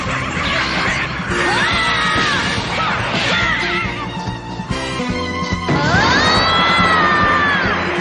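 A boy in an anime lets out a powerful scream, loud and sustained over a dense, crashing soundtrack with rising tonal layers and shouting, filling the whole stretch.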